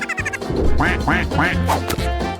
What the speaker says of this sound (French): Elle pourra regarder les jolis canards nager le soir.